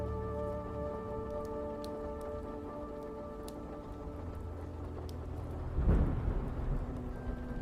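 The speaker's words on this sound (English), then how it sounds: "the steady patter of rain." Steady rain patters on a city street at night, a soft continuous hiss beneath a low, humming backdrop, with a brief louder swell near the end.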